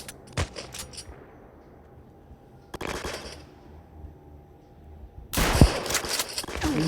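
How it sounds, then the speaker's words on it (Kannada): Gunfire in a video game comes in three sharp bursts separated by quiet gaps, and the last volley is louder and runs on to the end. "ಆ ಗನ್ ಇಟ್ಕೊಂಡ್ಬಿಟ್ಟು ಅವ್ನು ಹೆಡ್ ಶಾಟ್ ಹೊಡಿಯಕತ್ತಾನೆ"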